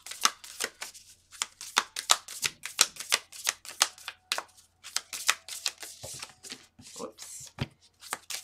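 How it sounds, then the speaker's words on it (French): Tarot cards being shuffled by hand, a rapid series of crisp riffling snaps and flutters in quick bursts, close and fairly loud, with brief pauses between runs. "On va aller chercher une carte,"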